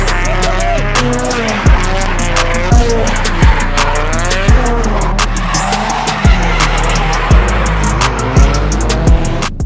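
A car drifts in Japan, close beside a wall, with loud, sustained tire squeal while its engine revs rise and drop repeatedly, close and continuous.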